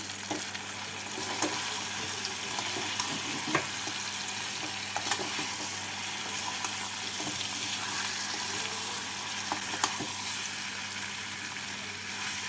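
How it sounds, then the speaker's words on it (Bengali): Fried potatoes being stirred with spice paste in a pan for Kashmiri dum aloo, giving a steady soft sizzle with intermittent scraping strokes of the spoon throughout, at a moderate level with no talking. "আলুগুলোকে দিয়ে মশলার সাথে নাড়াচাড়া করে নিচ্ছি"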